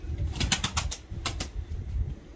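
Pigeons take off and fly, their wings flapping in several quick bursts of clattering beats, close by, with short pauses between flurries.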